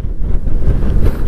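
Strong wind buffets the microphone in loud, uneven gusts, a low rumbling roar near the coast of San Nicolas, Pangasinan, with no voices.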